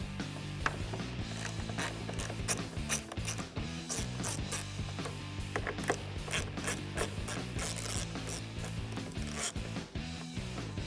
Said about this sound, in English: We're going to start by removing the two 7mm bolts inside the wheel well.